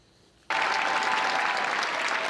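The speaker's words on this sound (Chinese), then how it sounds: "拿乌克兰的国旗接受全场观众的拍掌欢呼。" Sustained applause from a full theater audience after the United Ukrainian Ballet's performance of Giselle at the Kennedy Center, bursting in abruptly and continuing loud and dense with no talk over it.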